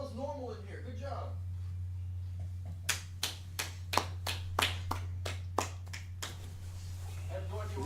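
A run of about nine sharp hand claps, spaced roughly evenly at a moderate pace, stands out clearly over a steady low hum indoors, with people talking before and after.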